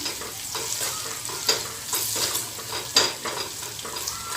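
Curry leaves and red chillies frying in hot oil for Nagpur-style zhunka, a steady close sizzle with a few louder crackling spits and the scrape of stirring, no voices.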